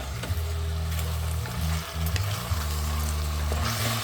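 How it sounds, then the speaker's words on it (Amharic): Chopped tomatoes fry in a pan with a steady close sizzle, broken by occasional stirring scrapes and clicks. "አንድ ላይ ትንሽ ጠበስ አድርገዋለሁ።"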